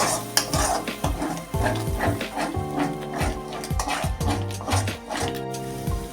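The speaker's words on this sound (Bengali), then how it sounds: "এখন দিয়ে দিচ্ছি ফেটিয়ে রাখা টক দই মশলার মধ্যে ভালো করে মিক্সড করে নেবো টক দইটা এবং আরেকটু কষিয়ে নেবো" A spoon stirs whisked sour curd into fried masala in a pan for aar fish kaliya, making repeated close scraping and clattering strokes against the metal over a soft sizzle, with no talk.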